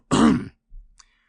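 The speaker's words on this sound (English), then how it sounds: "He coughed in an important way and began again." A narrator in a Winnie the Pooh audiobook gives one deliberate, important-sounding throat-clearing cough up close, followed by a softer grunt and a tiny click.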